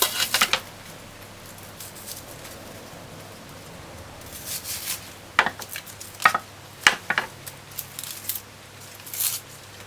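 Scallions and other vegetables are peeled by hand for a chicken foot stew peas dish, giving a few soft scraping and tearing bursts after a quiet stretch, close by and fairly faint, with no talking.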